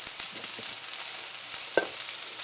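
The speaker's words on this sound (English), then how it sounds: "while it's hot, you want to add your chili flakes" Chili flakes sizzle in hot oil, a loud bright hiss that holds steady with light crackles and a brief stirring clatter, no voices.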